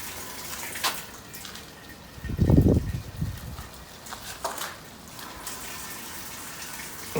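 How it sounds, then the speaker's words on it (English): A roadside-salvaged washing machine fills with water, a short gushing inflow swelling in the middle over a low hum, with faint clicks and splashes around it, no talking. "Filling with water."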